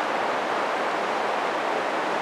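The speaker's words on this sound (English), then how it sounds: "I'm standing next to a babbling brook," A babbling brook rushes in a steady, dense wash of flowing water that fills the air without pause, up close and alone.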